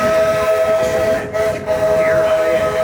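A Disneyland Railroad steam train sounds a loud, sustained whistle with steady tonal blasts over continuous rumble and hiss from the running locomotive, heard up close with no talking.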